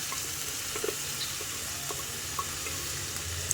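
Low-fat pork is stirred into masala in a pan, giving a steady, soft sizzle of frying with faint scraping and stirring clicks now and then, quiet and continuous with no talking.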